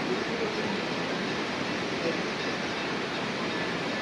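The Yamuna river flows near Yamunotri temple in Uttarakhand, a steady, loud, broadband rush of fast mountain water that stays constant throughout with no distinct breaks.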